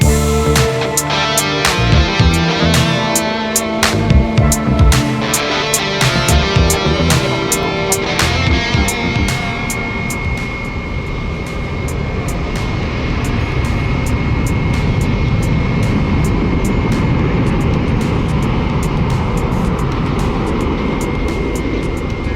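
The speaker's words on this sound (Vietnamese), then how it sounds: "Mời mọi người chiêm ngưỡng pha cất cánh của chiếc máy bay này nào." An Airbus A330-300F cargo plane takes off from Tan Son Nhat airport, a loud sustained engine roar with a whining tone that builds and holds throughout.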